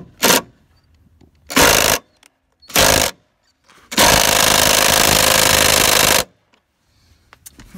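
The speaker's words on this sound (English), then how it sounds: "I'm going to try the impact on it." An impact wrench hammers at a T47 Torx door striker bolt on a 1994 Ford F350: three short loud rattling bursts, then a longer sustained hammering run of about two seconds, close and alone, with quiet gaps between.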